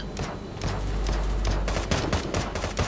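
Gunfire in the mobile shooter Sausage Man: dense automatic bursts and rapid shots rattle steadily for about three seconds, loud and continuous, with no talking over them.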